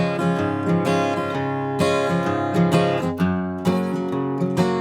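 Country-style strumming on an acoustic guitar plays a country tune, with steady rhythmic strokes and bright chords ringing clearly and alone.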